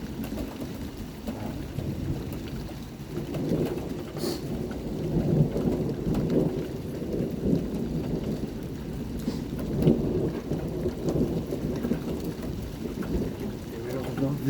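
Steady rain falling with low, rolling thunder rumbling throughout during a hailstorm, continuous and moderately loud, like a storm overhead.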